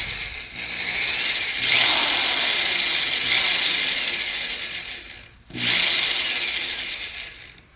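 A power drill spins a vehicle speed sensor from a 2003 Accent during electrical troubleshooting. It runs as a loud, steady, close whine that cuts out briefly and then starts again, with no talking.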